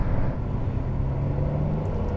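A Ferrari 599 GTB pulling away in second gear on a slightly sandy road in Dubai, a steady low engine rumble heard close and moderately loud, no talk.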